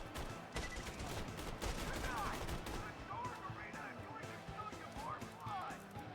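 Rifle gunfire in Borderlands 2, a run of sharp shots cracking through a busy firefight, with game music and effects underneath and someone talking over much of it.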